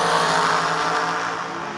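A dragster race car roars at a drag race, a loud, steady, broadband engine blast that fills the whole moment and fades slightly toward the end, with no talking.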